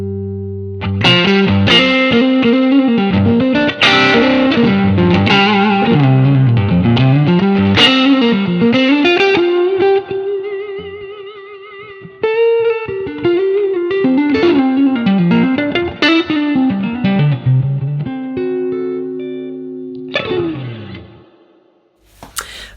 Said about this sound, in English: Really nice kind of vintage sounding overdrive.